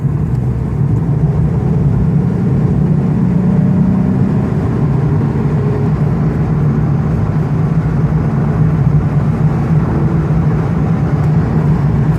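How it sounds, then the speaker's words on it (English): A 2015 Nissan 350Z sports coupe accelerating hard, a loud, steady engine drone heard from inside the cabin, holding a deep mid-range roar throughout with no voices. "Now let me give it some gas here."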